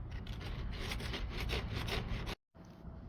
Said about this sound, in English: Got a little 80 grit on a block.